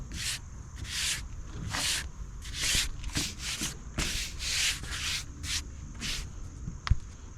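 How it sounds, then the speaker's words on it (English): Rhythmic back-and-forth strokes of sandpaper scuffing a painted 1992 Buick Roadmaster dashboard, a dozen or so short raspy rubs in an uneven rhythm, close and fairly quiet, with a sharp knock near the end. "So I think I'm gonna scuff this up and hit it with another coat"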